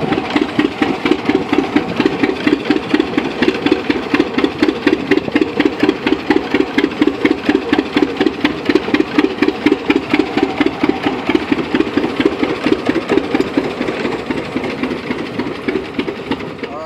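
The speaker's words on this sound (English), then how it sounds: "all they farm with is tractors just like this, the big internationals from the 70s" A 1970s International Farmall tractor engine running close by at a farm park, a loud, steady rhythmic chugging with fast regular pulses that holds throughout and eases slightly toward the end.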